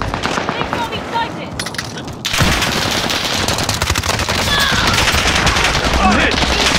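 Sustained automatic gunfire on Rebirth Island in the battle royale shooter Call of Duty Warzone. Dense, rapid bursts rattle on almost without a break and grow louder and fuller after a brief lull.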